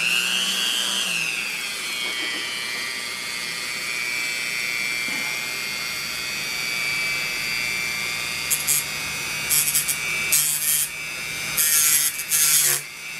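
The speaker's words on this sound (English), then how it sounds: "And then we're going to use the Whetstone." A whetstone rasps steadily against a Ruger Precision Rimfire bolt in a continuous, close grinding scrape, with several sharper scraping strokes near the end.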